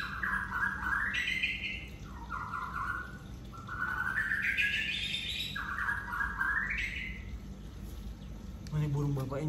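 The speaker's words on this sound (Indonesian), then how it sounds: "Mana burung bapak ini nyaut mulu." A pet bird chirps loudly and close by, repeating rising, whistled phrases in a steady pattern over a low background hum, with a short voice at the very end.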